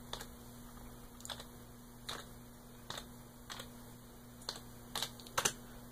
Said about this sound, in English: we're going to type in the command DriftNet